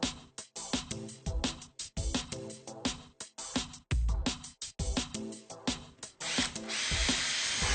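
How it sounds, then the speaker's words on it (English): A power drill with a long bit whirs in short bursts, starting and stopping repeatedly, then runs continuously as it bores into a wall to mount a rail, close and loud. "finish drilling the hole"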